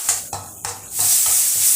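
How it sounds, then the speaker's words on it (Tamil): Onions sizzling in hot oil in a pan for chana masala, with a few short stirring scrapes early on, then a steady loud frying hiss that fills the rest. "3 வெங்காயத்தை நம்ம எண்ணெயில் போட்டுக்கோம்."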